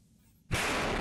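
Bombs going off in the Half Dead video game: after a quiet moment, a sudden loud burst cuts in and holds as a dense, sustained blast roar to the end.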